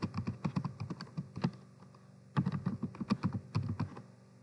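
Close, quiet clicking of a computer keyboard as an address is typed, two quick bursts of keystrokes separated by a short pause.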